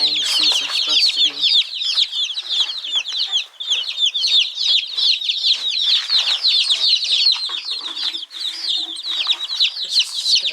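Baby chicks cheeping continuously in a dense, high-pitched chorus close by, many overlapping peeps with no pause throughout.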